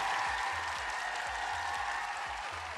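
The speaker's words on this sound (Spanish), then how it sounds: "Te mandamos un aplauso a la distancia" Sustained applause from a studio audience greeting a remote guest, a dense even wash of clapping heard close and moderately loud without pause, with no talk over it.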